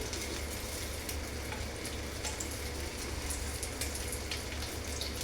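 Dried red chillies, chana dal, urad dal, mustard seeds and cumin sizzle in hot oil for a tempering, a steady close crackling fry with small pops, heard alone without talk.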